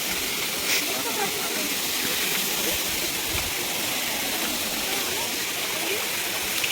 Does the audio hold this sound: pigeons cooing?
no